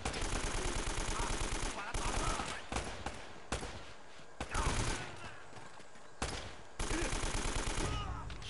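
Rapid enemy gunfire from the video game Uncharted, dense automatic bursts that start and stop in several loud volleys, with short pauses between them and faint talk underneath.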